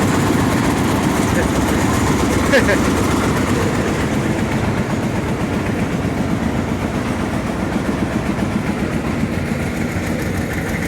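An old engine-driven tubewell boring rig, drilling about 220 feet through soil and repaired after an engine fault, runs with a steady, loud, rumbling throb that continues without a break for the whole stretch.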